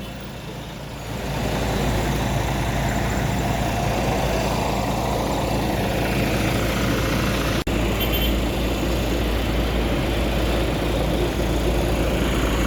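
A Tronton heavy truck, unit 1836, with a large engine runs at a steady idle nearby, a constant deep rumble that holds from about a second in to the end with one brief click partway.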